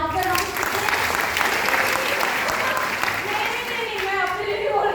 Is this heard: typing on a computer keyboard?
no